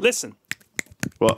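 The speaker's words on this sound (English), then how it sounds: "That's the sound of one hand clapping." Three or four short, dry finger snaps, offered as the sound of one hand clapping, pop out one at a time in a quiet room, with brief spoken words just before and after them.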